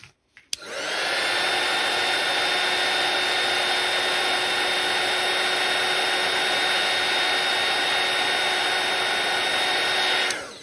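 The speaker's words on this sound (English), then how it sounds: "if you find that using a heat gun does warp your cardstock a little bit" A heat gun warming cardstock blows with a steady, loud, close whirring hiss that runs uninterrupted for about ten seconds. It switches on with a click and cuts off at the end.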